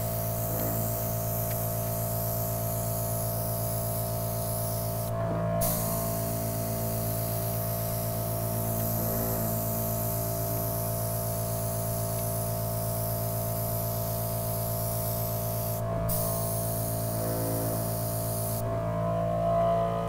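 An airbrush sprays with its trigger pulled back, a soft constant hiss over a humming background, cutting out briefly a few times.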